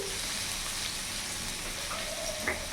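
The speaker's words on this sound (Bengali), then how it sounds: "কিছুক্ষণ সবজিগুলো ভাজা ভাজা করে নিয়েছি।" Chopped pumpkin, carrot, potato and radish fry in a pan for a spinach curry, a faint, steady sizzle throughout with a slight stir near the end.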